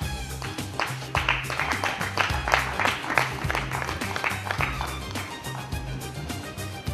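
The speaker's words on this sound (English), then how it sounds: "A big round of applause for all our distinguished guests." Applause rises for distinguished guests at a national business convention, a crowd clapping with distinct hand claps over sustained music for several seconds.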